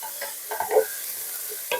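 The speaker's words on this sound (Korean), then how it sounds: "지금 이렇게 더 볶는 동안 애들이 순이 쑥 죽죠." Burdock root is stir-fried in a pan as its moisture cooks off, with a gentle sizzle beneath a few clinking, scraping stirs. One stir is louder midway and another comes near the end.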